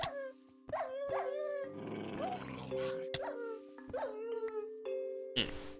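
Several short barks from a shiba dog in the Minecraft video game, each sharp and tonal, spaced unevenly over a steady electronic game tone, with a burst of rough game noise in the middle.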